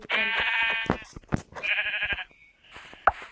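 Sheep in the video game Minecraft bleat in two long wavering calls, loud and close, with brief clicks and a short squeak between them and no talking.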